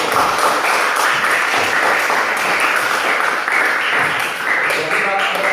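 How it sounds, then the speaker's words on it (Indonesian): Students in a classroom applaud together, a dense, loud and continuous patter of many hands with voices mixed faintly into the clapping. "Mari kita berikan tepuk tangan."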